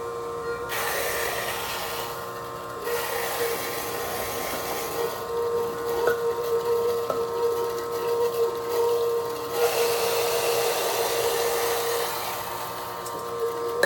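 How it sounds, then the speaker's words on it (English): A PURE juicer runs water through during pre-cleaning, giving a steady mechanical whine with a sustained tonal hum and fluctuating hiss that surges and eases across the stretch, with no talking. "I'm running it through the machine and doing a pre-cleaning"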